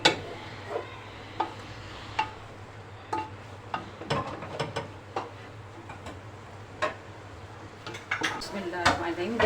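Chicken being stirred into a pan of vegetables with soy and chili sauce, giving irregular scrapes and clinks of a spoon against the pan over a low steady hum, with faint background voice.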